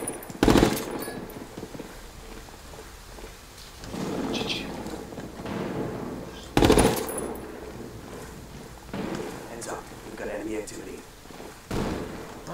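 Bursts of automatic gunfire and loud shots in the tactical shooter Ghost Recon Wildlands during a quarry firefight, sharp blasts recurring every few seconds over rumbling battle ambience while a player talks.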